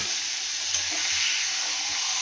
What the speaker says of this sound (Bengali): মাছটাকে আমি তেলের মধ্যে দিয়ে ভালো করে একটু ভাজা ভাজা করে নিচ্ছি।